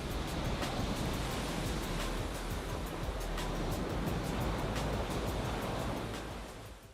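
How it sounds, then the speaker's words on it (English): Ocean waves roar as a steady broadband surf wash, swelling gently and fading slightly at the end, with no voices present. "And then we can add in ocean sounds for the ocean."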